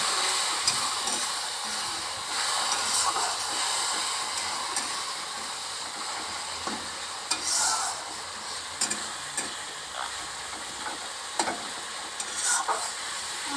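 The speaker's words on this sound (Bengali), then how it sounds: "এবার মশলাটা ভাজা ভাজা হয়ে গিয়েছে, তেল ছেড়ে গিয়েছে, এবার অল্প একটু জল দিয়েছি।" Spice masala for kasturi ghugni fries in oil in a pan with a steady close sizzle and hiss, broken by intermittent stirring scrapes and clicks; no one speaks.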